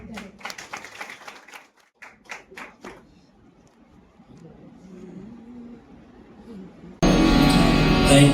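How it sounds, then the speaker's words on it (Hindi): Brief bursts of clapping from a church congregation at a revival meeting, several quick claps early on, then quieter room noise before a sudden loud wash of sound at the end. "तो आइए उनका जोरदार तालियों के साथ स्वागत करें"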